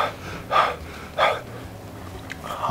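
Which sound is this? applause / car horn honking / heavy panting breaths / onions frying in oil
heavy panting breaths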